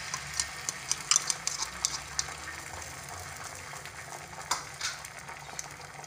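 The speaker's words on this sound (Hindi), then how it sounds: "अब हमारा अंडा फ्राई हो रहा है।" An egg fries in a pan, giving a steady, moderately close sizzle dotted with small pops and scraping stirs, with no talking.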